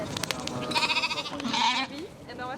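A sheep bleats in a shepherded flock kept in the Paris suburbs, a wavering nasal cry near and fairly loud, mixed with other animal calls and people talking.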